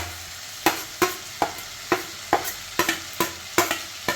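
Ginger garlic paste fries with fish in a hot pan, heard as a rhythmic run of a dozen sharp scraping stirs over a soft sizzle, close up and steady, no voices.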